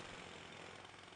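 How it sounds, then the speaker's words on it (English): Steady, dense rattling hammering fills the clip without pause, a dull continuous jackhammer drone, fairly quiet and distant-sounding, with no voices. "the farther away I get, the quieter the jackhammer sounds to me"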